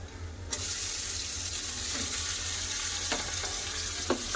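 Chopped tomatoes drop into a pan of fried onions and sizzle steadily and loudly, a constant close hiss with a few small clatters and no talking.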